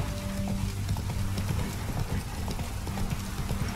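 Horse hooves clip-clop steadily at a brisk pace while riding cross-country in The Witcher 3: Wild Hunt, over a continuous ambient game backdrop with low tonal music.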